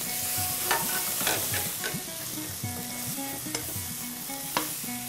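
Eggplant frying in a pan with egg, stirred with a utensil that scrapes and knocks now and then over a steady close sizzle, with a faint low hum underneath and no speech.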